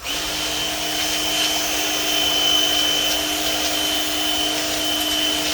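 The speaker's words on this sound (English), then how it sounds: "I own a power washer from Dewalt" A Dewalt 20V max 550 PSI cordless power washer runs with a steady, even motor whine and broadband hiss, holding constant throughout with no voices.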